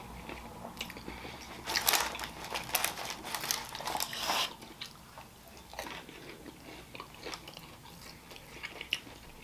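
Someone bites into a crunchy burritodilla shell from Bubbakoos, giving loud crackling crunches at first, then quieter, moist chewing with occasional small crunches, all close to the mic with no talking.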